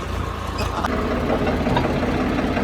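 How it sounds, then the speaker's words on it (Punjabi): A diesel tractor pulling a water tanker runs steadily nearby, a low rumbling drone with a faint knocking rhythm throughout. "ਆਪਾਂ ਧਰਮਸ਼ਾਲਾ ਦਾ ਟਰੈਕਟਰ ਟੈਂਕਰ ਪਾਣੀ ਦਾ"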